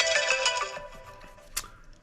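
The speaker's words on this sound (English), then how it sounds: "Got a phone call coming in." An incoming call's phone ringtone plays a bright electronic melody that fades out within about a second, followed by a short chirp, fairly close and with no speech over it.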